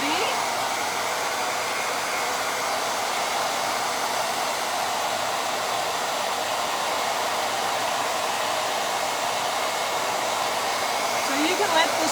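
A hair dryer blows steadily on craft work to dry it until tacky, a loud, even, continuous whir held close for the whole stretch with no talking.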